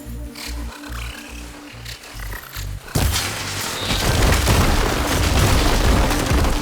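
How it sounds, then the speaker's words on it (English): Glowing crystals detonating in Horizon Forbidden West, a sudden heavy boom at about the midpoint following rhythmic low thuds, then a sustained roaring, crackling blast that fills the rest of the clip. "See those glowing crystals? Takes one hit to detonate."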